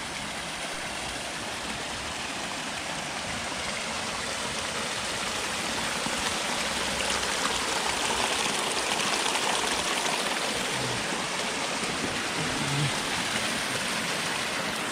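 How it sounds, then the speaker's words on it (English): A mini waterfall on a mountain river gives a steady, broad rush of falling water, close and constant. It is loud and unbroken for the whole stretch, with no voices over it. "Here's a mini waterfall."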